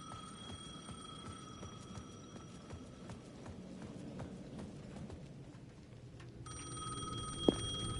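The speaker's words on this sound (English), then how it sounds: "The payphone at the edge of the plaza was ringing again." A payphone rings faintly in the distance in the Alan Wake 2 video game, a thin repeating bell heard over quiet clopping footsteps and low ambient noise.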